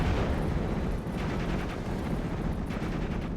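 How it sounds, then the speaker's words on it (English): Artillery barrage in the World War II strategy game Steel Division 44, a dense, continuous rumble of overlapping explosions and booms, loud and sustained without a break. "This barrage here will help prevent any retreat."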